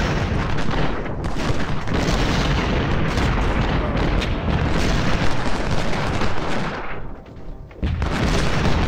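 A continuous roar of massed musket volleys and booming cannon fire in the Civil War strategy game Ultimate General at First Bull Run, loud and dense with a brief dip before the firing surges again.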